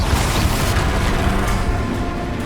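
Magical blast effects from the Confringo and Depulso spells in the video game Hogwarts Legacy, a continuous dense rumbling boom that stays loud and steady throughout.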